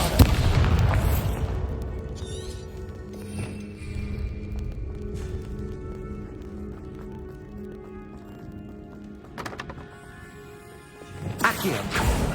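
In the Hogwarts Legacy video game, a Bombarda spell bursts with a heavy booming explosion at the start, then a long rumbling tail of debris and ambience, with a character shouting the incantation, and another loud burst near the end.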